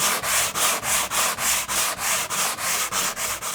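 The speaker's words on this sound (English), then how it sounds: "You can also take the sanding sponge and just sand this a little bit" A sanding sponge rubs over a drywall patch in about a dozen even back-and-forth strokes, loud and close, with a steady rhythmic swish.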